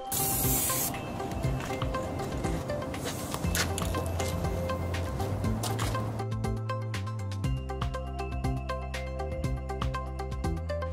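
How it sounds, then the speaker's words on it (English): A continuous aerosol spray hisses loudly from an open can, a steady broadband rush with brief pauses and rattling handling noise throughout. "spray paint was sprayed on both halves of the surface."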